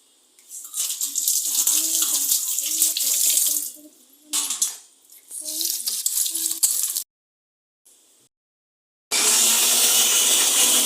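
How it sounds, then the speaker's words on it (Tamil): Ginger and garlic rinsed under a running kitchen tap, water splashing loudly in bursts with short pauses, then a steady gush. "இப்போ வந்து நம்ம இஞ்சி பூண்டை கழுவிட்டு"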